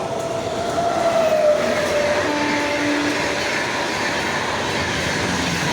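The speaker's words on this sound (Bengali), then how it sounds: "তো ট্রেন আসছে খুবই জোরে গাইস" A train rumbles past at speed, a loud continuous roar with a faint whining tone sliding down, no voices.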